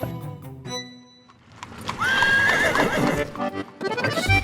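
A carriage horse in Bataan lets out a loud, drawn-out whinny that rises and wavers, with hoof clops and bustle around it.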